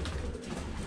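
A racing pigeon coos in a loft, a soft, low murmur over a steady, noisy background.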